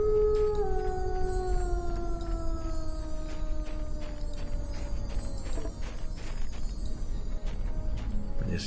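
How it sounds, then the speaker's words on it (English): Wolves howl in a Neverwinter Nights game area with caves, a few long, falling howls layered over a low ambient bed, with scattered clicks and taps throughout. "I did hear howling, so I'm just kind of hoping that's ambient noise"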